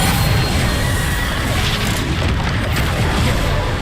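A Bombarda explosion spell goes off in the video game Hogwarts Legacy, a loud, dense, sustained booming rumble with crashing noise that holds steady for a few seconds.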